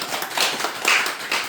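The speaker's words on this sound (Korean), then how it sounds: "자, 박수." Audience clapping at a Buddhist basic-education class opening in a temple hall, a brief burst of claps near the listener that swells and fades over a second or so.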